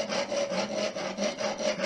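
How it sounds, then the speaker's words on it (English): A Boker knife blade is scrubbed back and forth across a coarse 100-grit sharpening stone while reprofiling, making steady rhythmic rasping strokes, close and fairly loud, with no talk. "So now I'm gonna scrub and get the burr to lay over on this"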